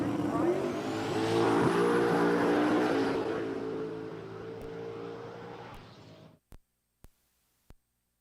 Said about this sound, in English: So the blue Mustang, sounds like it's a turbo car, spooling up, bumping in,